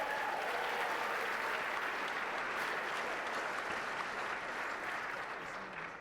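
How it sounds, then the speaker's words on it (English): Sustained applause from an audience at an awards gala, a dense, even wash of clapping that carries on for several seconds before easing slightly at the end. "How about another round of applause for Liz Manley?"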